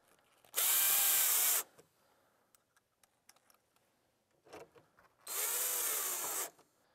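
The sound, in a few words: power drill driving screws into window coil balance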